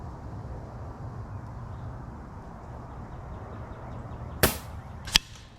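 An FX Impact MKII air rifle fires NSA 43.5 gr slugs twice, each a sharp, close crack about a second apart, standing out over low, steady outdoor background noise.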